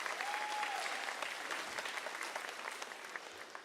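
An audience claps together at a comedy birthday show, a dense, continuous roll of applause that stays steady throughout, fairly distant with a faint voice briefly over it.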